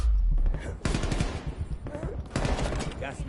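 Rapid automatic gunfire in the video game Call of Duty, loud close bursts in quick succession with brief gaps between them, rattling through the whole clip.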